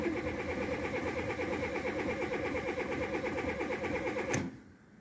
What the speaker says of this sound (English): So here we are, clutch down, cranking.